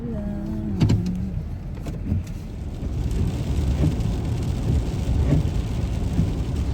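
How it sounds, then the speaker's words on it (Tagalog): Rain falls steadily outside as a broad, even hiss with a few soft knocks and brief tonal sounds early on, no talking. "It's raining."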